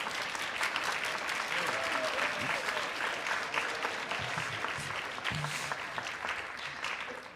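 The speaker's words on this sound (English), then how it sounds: "This is where you applaud, students." A crowd claps continuously at an honors band concert, a steady rattling applause of moderate volume that tapers slightly toward the end.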